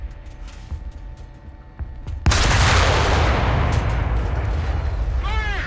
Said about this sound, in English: That gun makes a pretty good kaboom.